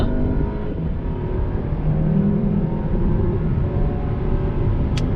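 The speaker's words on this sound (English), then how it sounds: "the DSG gearbox doing its thing. Barely any power loss between the gears. Gear after gear after gear, it just keeps pulling." A Volkswagen Arteon pulling hard in comfort mode, its engine droning steadily from inside the cabin as the DSG gearbox shifts up with barely a break in power.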